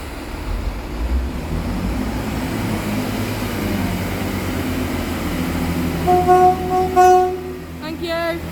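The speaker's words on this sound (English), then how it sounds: "Just pulling in here is class 166. It's the 1105 to Westbury." A Great Western Railway class 166 diesel unit pulls into Bath Spa station with a steady low engine rumble, then sounds a series of loud two-tone horn blasts near the end.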